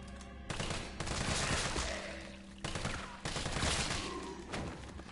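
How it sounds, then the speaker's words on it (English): Rapid bursts of gunfire in the video game Resident Evil 3, several loud clusters of sharp shots fired in quick succession with short pauses between volleys, close and punchy. "Well, that was more than 4 shots"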